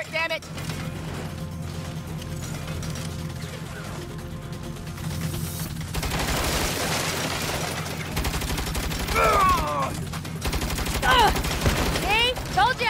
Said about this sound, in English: You better shoot that turret like you shoot off your mouth. Take that turret